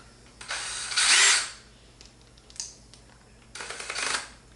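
Power screwdriver backing screws out of a Daelim bidet during a repair, with two loud whirring bursts a few seconds apart and a brief click between them.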